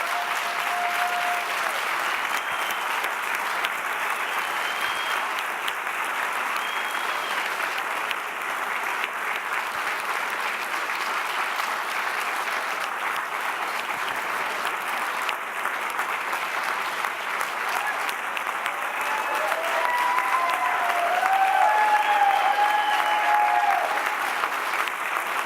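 A large audience gives a sustained round of applause at an honors ceremony evening, with steady, dense clapping that swells louder toward the end.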